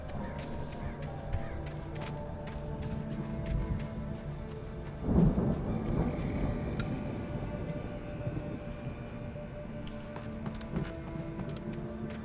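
Thunderstorm in the Alan Wake video game, a low rumbling storm bed that swells into a louder thunder crash near the midpoint, with steady rain-like noise continuing around it.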